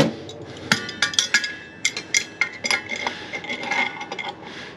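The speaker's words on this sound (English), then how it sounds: "Now I want to do this nut up nice and tight." Metal tool clinks and taps ring out while a nut is tightened on air conditioning heat pump pipework, a run of sharp irregular metallic knocks close by with no talking.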